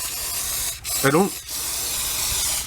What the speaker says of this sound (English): I just really go crazy and spray this stuff all over the place.